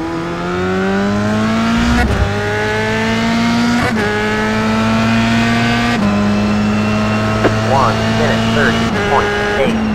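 F3 race cars lap Donington Park in the iRacing game with a loud, droning engine that climbs through regular gear changes. Brief chirps and other cars pass near the end while a voice talks over it.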